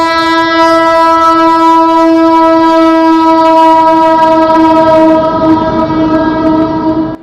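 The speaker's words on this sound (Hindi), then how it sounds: "विशाखापट्टनम से चल के कोरबा की ओर जाने वाली लिंक एक्सप्रेस।" A Link Express passenger train running from Visakhapatnam toward Korba sounds a long, steady, loud horn as it approaches a small railway station surrounded by trees, with faint rolling wheel noise beneath and no one speaking.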